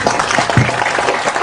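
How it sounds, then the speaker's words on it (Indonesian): Steady applause from an audience, a dense wash of clapping that continues evenly throughout. "Tepuk tangan semua."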